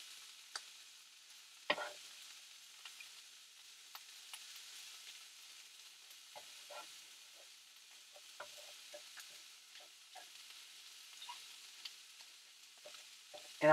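Scrambled eggs cook in a pan with a faint, soft hiss, broken by scattered light clicks and taps as they are stirred and flipped.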